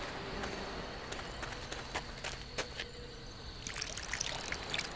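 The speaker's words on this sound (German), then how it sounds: "Und dann schütte Wasser drauf." Water poured onto hard, dry earth in The Book of Unwritten Tales adventure game makes a faint, steady trickling splash lasting several seconds, with scattered small drips and ticks and no voices.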